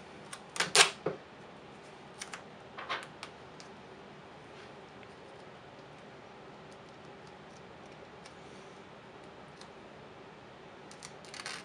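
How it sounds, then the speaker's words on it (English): Scissors cut a strip of tape to half width during an FPV wing build. Two brief, crisp snips come early, followed by a long, quiet stretch with faint handling clicks. "I'm going to take a strip of this tape, and I'm going to cut it half width"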